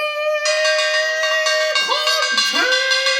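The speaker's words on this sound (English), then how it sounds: "Should we ring the bell? I think so. Yeah, let's do it." A bell rings out to open a class segment, one sustained ringing tone with bright harmonics that wavers and bends in pitch partway through, loud and alone with no talk.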